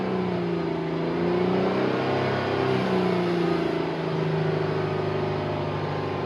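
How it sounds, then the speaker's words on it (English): A parked car's engine is revved steadily for several seconds, a loud continuous engine drone with a slowly shifting pitch, alone with no talking. "Right now I'm revving the engine"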